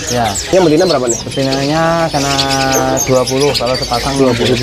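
Caged songbirds, young birds kept for sale, chirp and tweet steadily in the background while people talk over them nearly throughout.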